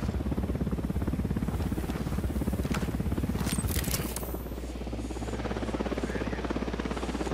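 Helicopter in the video game Ghost Recon Wildlands, a steady loud rotor chop with a pulsing low thump throughout, easing slightly partway as it hovers and descends, with no voices over it.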